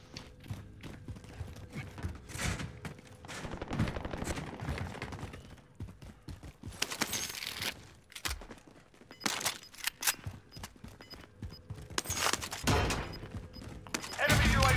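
Gunfire in a Call of Duty: Warzone Resurgence match arrives as scattered sharp bursts over about fifteen seconds, some near and loud, others farther off, mixed with footsteps and a voice talking.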